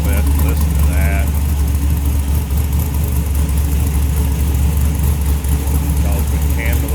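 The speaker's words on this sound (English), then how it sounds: "It has a side dump exhaust right in front of both rear wheels. Great rumble to it." A 1967 Chevrolet C10 Stepside pickup idles with a side dump exhaust exiting ahead of both rear wheels, giving a steady, deep, continuous rumble heard close up, with someone talking over it.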